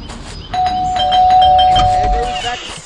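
A doorbell in the Scary Teacher 3D video game sounds a sustained electronic chime for about two seconds, loud and clear, over soft game background noise.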